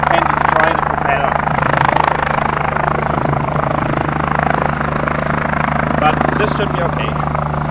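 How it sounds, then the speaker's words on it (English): Electric motor and propeller of an LS8-e neo glider (15/18 m wingspan) running on the ground, a steady close whirring drone with a constant tone throughout, with someone talking over it. "So now I want to check the motor on the ground"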